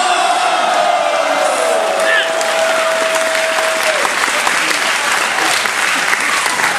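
Loud, sustained applause fills the room from a large audience at a comedy music show on a cruise, with scattered whoops and a long held yell over the clapping.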